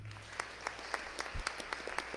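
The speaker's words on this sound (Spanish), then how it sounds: "Y le damos un aplauso desde ya." A congregation claps softly during a Saturday Mass in a church. The sound is sparse and scattered, fairly faint and distant, with individual claps audible over a quiet room.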